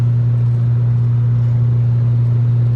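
Honda Civic driving, heard from inside as a loud, steady low engine drone with constant road rumble and no change in pitch across the short stretch, with no voices.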